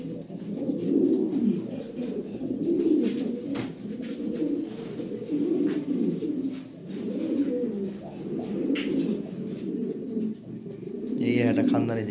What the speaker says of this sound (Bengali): অনেক কবুতর আছে ভাই। হ্যাঁ, দেখার মতো অনেক কবুতর আছে